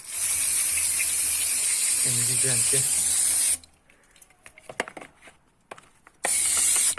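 A can of cleaner spray hisses loudly and steadily on a car's throttle body and MAF sensor, stops while someone talks briefly, then sprays again in a short burst.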